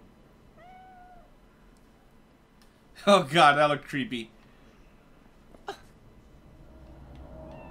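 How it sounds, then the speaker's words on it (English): A cat in the video game Cyberpunk 2077 gives a short, soft meow near the start, followed by a person speaking loudly and a quiet game background. "Oh, there's a cat."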